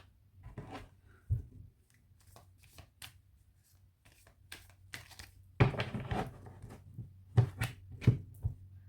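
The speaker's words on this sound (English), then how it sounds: "Let's cut the deck." A tarot card deck being cut and handled, soft close riffles and sharp card snaps in scattered bursts, quiet and without speech.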